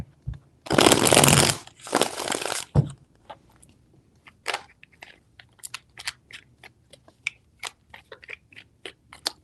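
Tarot cards are riffled and shuffled in two loud, close bursts, followed by a quieter string of individual card snaps and slides laid down one after another.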